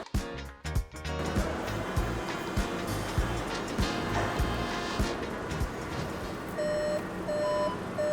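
A Skoda Karoq's parking sensor gives a short series of evenly spaced electronic reversing beeps after reverse gear is engaged, heard over a quiet car interior with faint background rumble.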